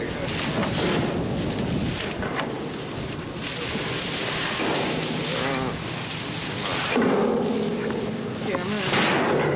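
Strong wind buffets outdoors beside a dumpster, roaring and gusting into the microphone in uneven surges, with people talking over it.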